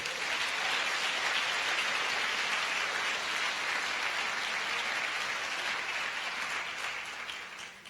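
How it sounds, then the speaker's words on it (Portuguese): A congregation claps during a church service, a dense, continuous wash of applause that holds steady throughout and only starts to thin in the final moment, fairly distant and with no voices. "Aplauda o Senhor."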